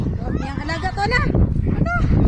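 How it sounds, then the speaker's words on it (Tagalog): A flock of farm ducks gives a rapid run of overlapping honking calls, then a brief pause and a few more, close and fairly loud over windy, scuffling farmyard noise. "Ang daming alagang pato"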